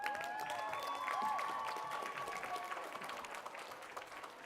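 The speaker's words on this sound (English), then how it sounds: "giving yourselves a round of applause" Applause from a youth conference audience, faint and distant in a large hall, a steady patter of many hands with faint whistles and cheers over it.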